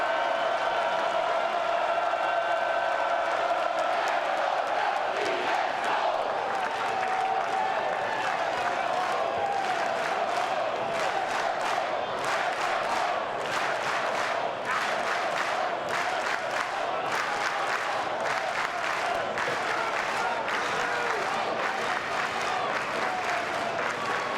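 A home crowd at a Florida State versus Mississippi State NCAA baseball regional game comes alive in dense, sustained applause and cheering that fills the stadium, swelling in bursts of claps with a commentator's voice faintly underneath.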